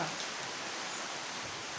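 Heavy rain near a house in Hyderabad, a steady dense hiss that holds evenly throughout with no voices.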